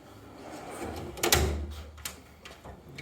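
A heavy bottom drawer of a U.S. General 56-inch steel tool box from Harbor Freight slides open with a short rumbling roll and a solid thud partway through, close by and alone.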